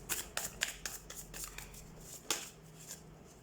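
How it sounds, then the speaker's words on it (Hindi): Tarot cards are shuffled by hand in quiet, irregular bursts of crisp flicks and riffles, faint and close, with no talking. "तो सबसे पहले हम कार्ड शफल कर लेते हैं।"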